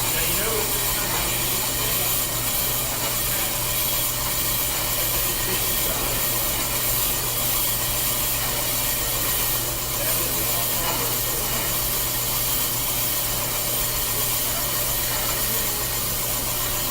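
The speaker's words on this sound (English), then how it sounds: "So now our bit's already in there, and we're just gonna slow cut it because that's all this rotor needs." A brake lathe bit slowly cutting a disc brake rotor, giving a steady, continuous grinding hum with a faint scraping texture that holds unchanged throughout, close by and with no talking.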